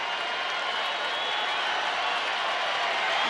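Crowd at a Texas Rangers home baseball game, a continuous wash of cheering and applause filling the stadium, steady and moderately loud throughout, rising a little at the close.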